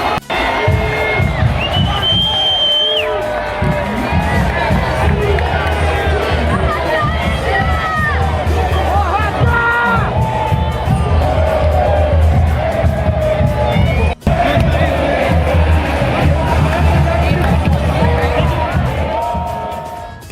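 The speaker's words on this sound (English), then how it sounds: "just hearing them roar and cheer" Fans at CWC '25 roar and cheer close by, a loud and sustained wall of crowd noise with shouts and whoops that swells and carries on without a break.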